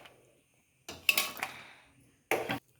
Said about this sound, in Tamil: மிளகா வதங்கினதை தனியான ஒரு பிளேட்டுக்கு எடுத்து வச்சிடலாம்